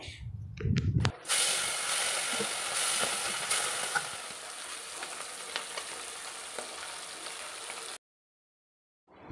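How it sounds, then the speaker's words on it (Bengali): Bata fish frying in hot oil, a steady broadband sizzle and hiss that runs close and loud for about eight seconds after a brief clattering start, then cuts to silence. "চলো মাছগুলো এখন ফটাফট করে আমি ভেজে নিচ্ছি"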